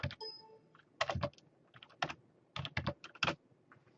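Fingers type a command on a computer keyboard, short bursts of close, clicky keystrokes grouped in quick clusters with brief pauses between, alone without voices.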